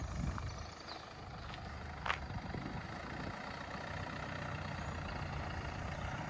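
Crash-damaged Mercedes GLA 200d AMG Line diesel engine running steadily at low idle, a constant low rumble heard alone with no talk, a brief faint knock partway through.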